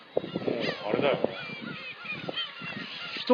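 A dense flock of birds honks and calls loudly up close, overlapping goose-like cries in quick irregular bursts.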